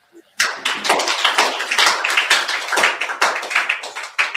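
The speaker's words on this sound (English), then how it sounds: "So maybe we can just clap for him." Audience applause at a Wikipedia outreach event: dense, steady clapping that starts abruptly and carries on close and loud, with no talking over it.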